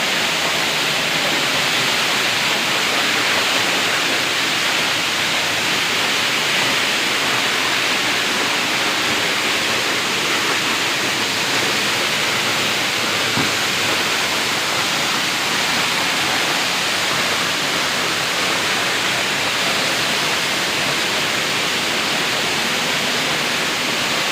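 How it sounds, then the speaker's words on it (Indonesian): The Reje Ilang waterfall in Bener Meriah, Aceh, roars as a dense, steady wash of falling water, loud and close, unbroken for the whole stretch with no voices. "air terjun yang berada di Kabupaten Bener Meriah ini"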